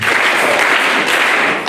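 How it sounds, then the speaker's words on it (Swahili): An audience at a seminary thanksgiving event claps continuously in a dense, loud burst of applause that holds steady and stops after under two seconds. "Makofi matatu."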